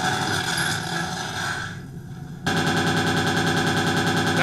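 Sustained automatic gunfire in the shooter game Interstellar Marines, loud and rapid. It breaks off briefly after a couple of seconds, then resumes at full intensity.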